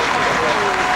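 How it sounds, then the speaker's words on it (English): Stadium crowd at a 2003 USA vs Mexico soccer friendly in San Jose gives a player a sustained ovation, a dense, steady wash of applause and cheering with a commentator's voice running over it. "she will get a great ovation here from the crowd in San Jose"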